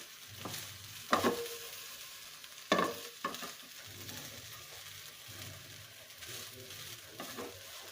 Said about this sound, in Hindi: अब इसके बाद मैं इसमें चावल ऐड करूँगी। ज़्यादा नहीं चलाना है क्योंकि चावल जो है हमारे पकी हुई हैं। बस जस्ट मैं इसको मिक्स करूँगी।